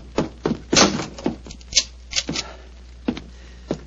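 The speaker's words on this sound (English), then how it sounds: "Lock the door behind you." An old door being shut and locked in a Victorian-era Sherlock Holmes drama, heard as a series of close wooden knocks, thumps and latch clicks in irregular succession over about four seconds, with no speech.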